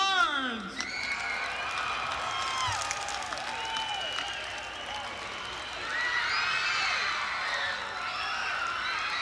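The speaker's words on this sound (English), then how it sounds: "Let's all give them a round of applause." An indoor crowd applauds and cheers for pageant finalists, with sustained clapping, scattered whoops and shouting voices throughout.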